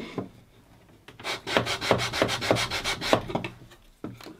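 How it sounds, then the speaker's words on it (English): A block wrapped in sandpaper is rubbed over wood in quick, evenly spaced back-and-forth strokes, a close rhythmic rasping that runs for a few seconds before a pause and one final stroke. "we just finish that off with a little bit of sandpaper wrapped around a block like this"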